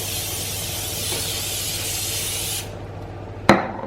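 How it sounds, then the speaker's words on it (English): A steady hiss of an aerosol cooking oil spray onto pork loin lasts a couple of seconds, then cuts off, followed by a single sharp click. "spray a little bit of oil"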